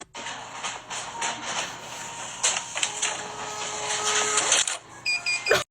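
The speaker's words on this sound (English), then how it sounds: "the online order receipt printer prints an online order" Receipt printer at a party store register printing an online order, a buzzy mechanical whir in uneven bursts with short pauses and a final quick clatter, loud and close with no talking.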